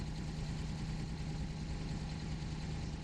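A turbocharged Italian car in BeamNG.drive sits idling, its engine giving a steady, low, even rumble up close with no voices.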